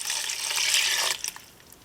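Four cups of water pour into a pot of cabbage and noodle soup with softened, wilted cabbage, a brief bright rushing splash that cuts off and leaves a few drips.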